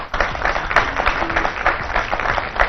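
Crowd applause at a live comedy-style cricket talk show, fairly close and moderately loud, with irregular claps merging into a continuous patter for a few seconds.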